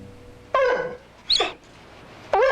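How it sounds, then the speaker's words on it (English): A dog whimpers in three separate high, whiny cries with short pauses between, close by and fairly loud, with no talking. "She would whimper and cry any time she came near that room."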